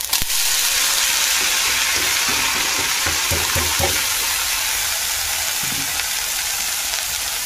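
Washed leafy greens hit a very hot wok, giving a loud, constant frying hiss close up, with a few clunks of stirring partway through.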